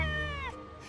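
A cartoon cat gives a single drawn-out meow with a falling pitch, close and clear, followed by brief quiet.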